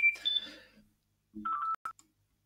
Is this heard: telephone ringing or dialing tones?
yes